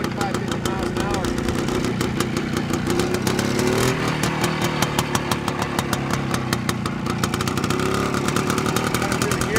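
A 1966 Greeves 24TFS motorcycle engine drones steadily while being ridden at cruising speed, a loud rapid two-stroke pulsing with a brief dip and recovery midway, continuous throughout.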